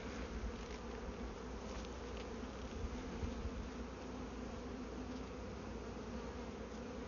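A honeybee swarm being moved into a new hive hums in a steady, dense drone of many wings, close but fairly quiet, going on unbroken with no talking.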